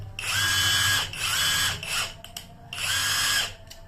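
A Dongcheng DCPB358EM brushless impact wrench runs in three loud, close bursts, each a high whining spin of about a second, separated by short pauses and a brief blip.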